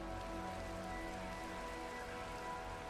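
Steady rain falls in the Minecraft video game, a dense, even hiss with a faint low rumble that runs unbroken from start to finish, with no talk over it.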